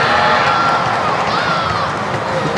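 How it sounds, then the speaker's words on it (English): Crowd applause and cheering in a stadium after a hammer throw at the SEA Games athletics, a dense, loud wash of clapping and shouting that holds steady for a couple of seconds. "Big round of applause."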